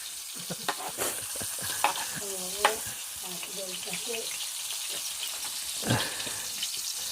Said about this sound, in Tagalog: Hotdog kasi ang niluluto mga kabayan